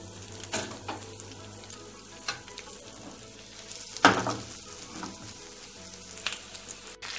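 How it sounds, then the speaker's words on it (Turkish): Crispy chicken pieces frying in hot oil in a pan, a steady close crackle and sizzle with a louder burst of spatter midway. "Bir miktar yağda çıtır tavuklarımızı kızartmaya başlıyoruz."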